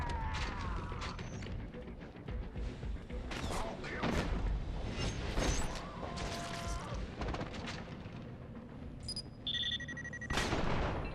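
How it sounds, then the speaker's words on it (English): Pistol gunfire in the shooter game Killzone: Mercenary, a string of sharp irregular shots mixed with mechanical clanks and electronic tones, fairly close. "I don't appreciate the terrible spread of this pistol failing to hit that camera"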